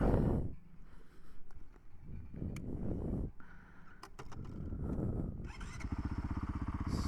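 A Honda CRF450RL dual-sport motorcycle pulls away on a road, its engine revving up through several rising bursts and a steady throttled drone. Birds coo faintly in the background.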